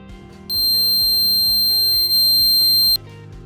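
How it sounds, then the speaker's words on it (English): A single steady electronic multimeter continuity beep sounds for about two and a half seconds, briefly dipping midway, then stops abruptly, while testing an RV air conditioner. "I'll take my voltmeter to ohms and just set it to the beep."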